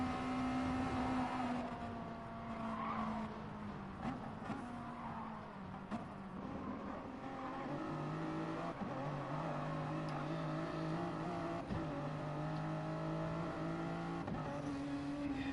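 Race cars in GT Sport roar past in an FIA GTC online race, with steady engine drone and shifting pitch as they pass. The sound runs continuously and fairly quietly, with no talk.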